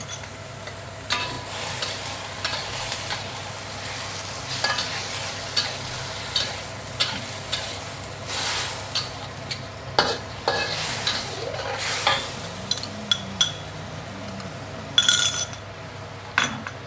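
Mixed vegetables stir-fried in a wok sizzle steadily for a long stretch while a metal spatula scrapes and clinks against the pan in repeated, uneven strokes, close and clear.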